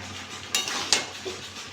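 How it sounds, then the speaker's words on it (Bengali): Mixed vegetable curry with stalks being stirred in a pan, two or three brief scraping clinks of a utensil against the metal over a soft background hiss, close and short. "একটু নেড়ে চেড়ে দেবো।"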